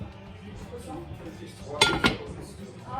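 A hot metal pot lid clanks twice, close and sharp, as it is handled and set back on a beef stew pot, with someone talking around the clinks.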